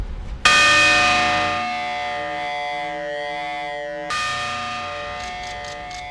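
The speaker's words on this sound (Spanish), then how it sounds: "La campana è in bronzo, lega nobile rame stagno, un bel suono, come nota è un re." A bronze church bell of copper-tin alloy, tuned to D, strikes loudly and rings out with a long sustained hum that slowly decays, then is struck again around four seconds in, with no voices present.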